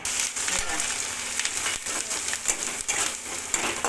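Peanuts sizzle and crackle in hot oil in a home kitchen pan, a steady dense frying hiss with small pops throughout, moderately close and continuous without speech.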